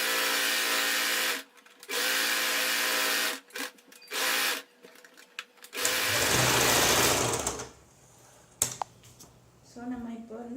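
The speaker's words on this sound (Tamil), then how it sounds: "இப்போ என்னோடய மெஷினில் ஜிக்ஸாக் இருக்கிறதால நான் ஜிக்ஸாக் பண்ண போகிறேன்." A sewing machine zigzag-stitches a cloth diaper insert in close, loud bursts of fast mechanical whirring that start and stop several times. Other handling noise comes between the runs, and a voice speaks briefly near the end.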